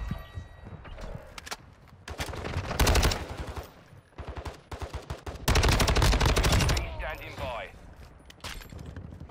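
Bursts of STB 556 assault rifle fire in Modern Warfare 2, loud rapid automatic volleys in several separate strings, with a player talking between them.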